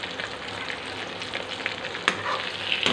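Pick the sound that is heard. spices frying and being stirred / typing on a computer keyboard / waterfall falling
spices frying and being stirred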